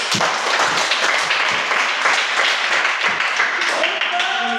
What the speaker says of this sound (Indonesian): Beri aplaus dulu kelompok satu